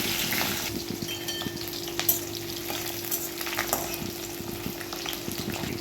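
Garlic frying in hot oil for methi dal, a steady close sizzle with faint crackles and occasional spoon clinks against the pan, and no voices.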